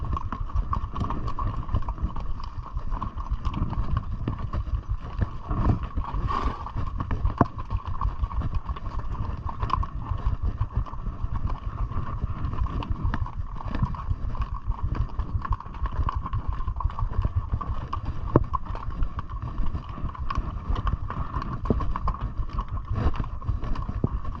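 Horses walking in the Sahara desert: a continuous, soft clip-clop of hooves under steady wind-like background noise, moderately close, no talk.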